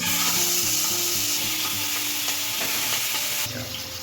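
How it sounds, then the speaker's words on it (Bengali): Loud, steady sizzle of hilsa fish frying in hot mustard oil in a wok, with stirring scrapes and bubbling, continuous and close, with no voices. "এবার হচ্ছে ইলিশ মাছগুলোকে প্রথমে ভেজে নেব।"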